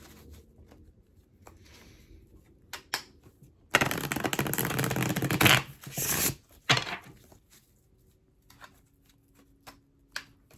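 Tarot cards being shuffled by hand, a loud riffling burst of several seconds followed by a few shorter clattering shuffles, with scattered small taps before and after and no talk.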